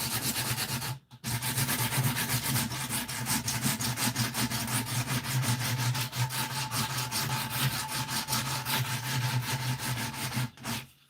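Coarse 80 grit sandpaper rubs back and forth on the handle of a Vintage Marbles Guidesman replica knife, making close, steady rasping strokes in a fast, even rhythm that pause briefly near the start.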